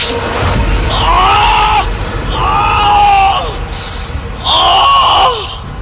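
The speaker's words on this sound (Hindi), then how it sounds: "नींद से चीखता हुआ उठा" A man wakes from sleep screaming in pain, a loud anguished cry rising and falling in three long drawn-out bursts with brief gaps between them, close and alone.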